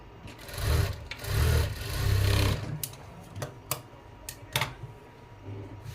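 A sewing machine stitching a cutwork design on cloth runs in three short, loud whirring bursts, followed by scattered sharp clicks and taps of handling.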